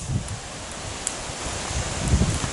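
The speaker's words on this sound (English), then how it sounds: "Getting a little windy now." Wind gusting across open ground on a whitetail deer hunting farm, a steady soft rushing with buffeting low rumbles swelling near the start and again toward the end, no voices.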